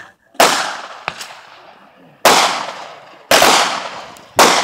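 Four sharp, loud gunshots ring out at an outdoor shooting range during an NRA course in California, irregularly spaced with ringing decays between them and no voices.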